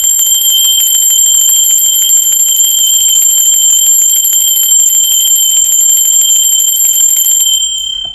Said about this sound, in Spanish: la campana es una energía de alta frecuencia